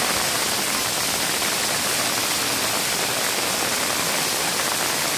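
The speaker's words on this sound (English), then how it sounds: "It's raining pretty good. Look at it coming off Shurijo Castle." Heavy rain pours off Shurijo Castle in a loud, dense, unbroken roar like a waterfall, with no voices over it.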